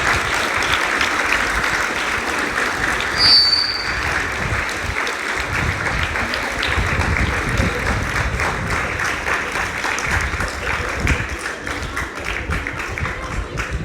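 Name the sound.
audience applause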